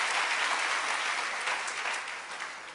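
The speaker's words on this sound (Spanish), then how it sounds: "Ahora, denle un aplauso bien fuerte al Rey" Church congregation applauding loudly and continuously, a thick dense clapping wash that holds strong and eases slightly toward the end, no voices over it.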